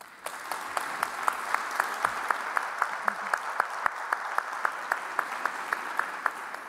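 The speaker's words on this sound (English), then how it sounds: "they all deserve a special round of applause" Conference audience applauds steadily, with dense clapping and crisp individual claps spread through the hall at a moderate, even level throughout.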